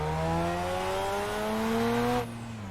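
Turbocharged rotary-engine car in Assetto Corsa on LA canyon roads, a loud, steady, high-pitched engine drone rising in pitch as it revs, then abruptly dropping to a lower, quieter tone near the end.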